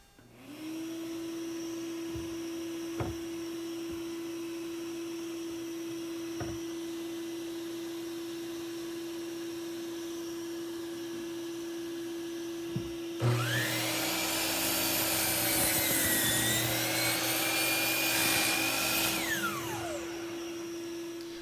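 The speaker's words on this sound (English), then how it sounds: "going to be cutting them all to length on the miter saw first" A miter saw cuts pine boards to length in a workshop: a steady motor hum runs for a long stretch, then a loud, bright burst of cutting rises for several seconds before winding down, close and with no talk.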